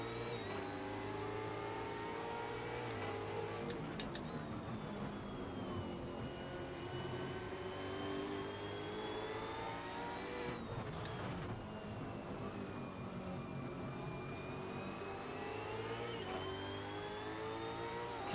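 A V8 Supercar engine in Assetto Corsa at Hidden Valley revs hard and steadily, its pitch climbing through the gears with brief dips at shifts, loud and continuous with no talking.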